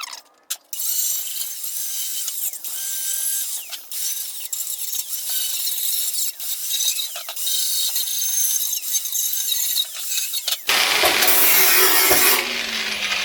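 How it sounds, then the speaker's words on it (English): A wire wheel on a tool scrubs the metal of a Type 4 VW oil cooler, a harsh, high whirring scour in repeated passes. It ends in a louder, brighter burst of grinding near the end. "I'll hit it with the wire wheel and do the best I can to clean it up."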